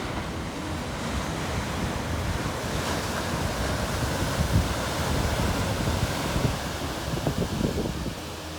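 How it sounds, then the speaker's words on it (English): Ocean waves on the coast at Wilder Ranch State Park, a steady broad wash of surf with gentle swells, mixed with wind buffeting the microphone and no talking. "we watched the ocean ebb and flow in and out"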